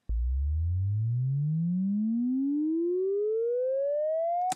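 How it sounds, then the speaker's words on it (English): A smooth synthetic sine tone sweeps steadily upward in pitch for several seconds, clean and continuous, then cuts off abruptly. "You can just have a whole sine wave."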